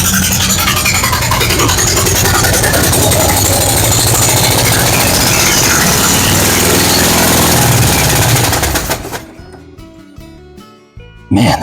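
A Vortec 350 V8 in a 1970 C10 pickup with a badly leaking exhaust runs loud and close, with a harsh rapid chattering roar for about nine seconds before it drops away.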